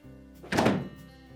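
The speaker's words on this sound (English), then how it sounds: "We'll simply open up the refrigerator door" A Frigidaire refrigerator's fresh food door opens with a single soft, close thunk as the seal releases, set against a quiet room hum.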